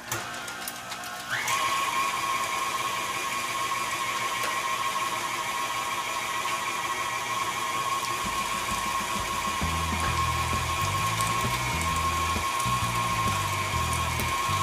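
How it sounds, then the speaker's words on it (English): An electric meat grinder on an ultra slow setting whirs steadily as it grinds meat, a continuous loud motor whine with a rougher churning texture appearing toward the end, with no talk. "let me just show how it does with the meat grinding here"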